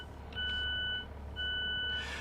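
Class 150 train door warning beeps in a simulated Cardiff City Network cab: two sustained steady electronic tones, each lasting under a second, with a short gap between them, loud over a quiet background hum.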